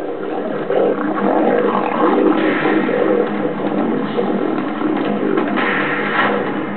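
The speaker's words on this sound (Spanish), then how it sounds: "Esos rugidos profundos te golpeaban en el pecho." Several lions fighting, deep rumbling roars and growls overlapping continuously and loudly, layered into a dense, chaotic wall of snarling without pause.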